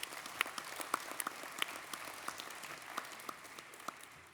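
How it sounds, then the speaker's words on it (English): Scattered applause from the audience at the National Congress of American Indians (NCAI) President's Address, sparse and uneven claps continuing steadily at moderate distance, with no voices over it. "let's give these tribes a round of applause for the work that they are doing for all of us."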